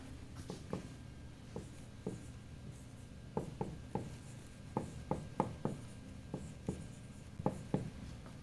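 Chalk or marker strokes on a lecture-hall board while a physics equation is written, short irregular taps and scrapes in bursts, close and fairly quiet over a faint room hum, with no talking.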